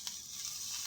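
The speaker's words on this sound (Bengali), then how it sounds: "এখানে দিয়ে দিচ্ছি কালো জিরা ফোড়ন" Nigella seeds dropped into hot oil for tempering, giving a quick faint hissing sizzle with a small crackle at the start, brief and close.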